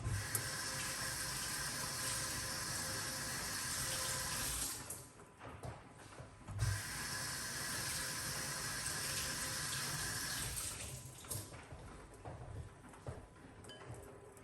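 Cerasee leaves are rinsed under a running kitchen tap, giving a continuous close splash of water that briefly breaks off twice before the flow resumes.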